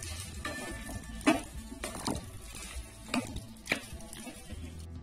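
A spoon stirs and mixes chana masala with salt in a pan: soft scraping and clinks come in a few distinct strokes over a faint sizzle, with no talking.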